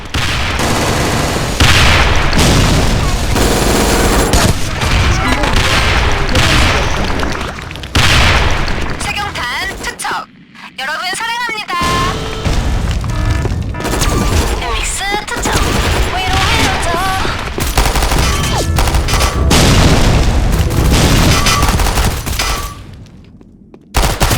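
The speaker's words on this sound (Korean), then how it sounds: "그럼 수류탄 투척할게" Grenade blasts and heavy gunfire boom loudly and almost without pause during a match of the online shooter Sudden Attack, with brief drops in the noise, game voice lines and a player's speech mixed in.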